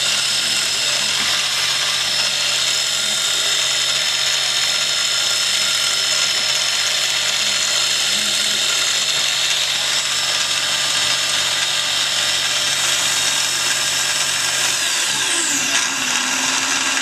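A Grizzly G0704 milling machine runs with a quill V-belt drive, giving a loud, steady, continuous mechanical whine and whir that stays constant throughout, shifting slightly near the end, with no talking.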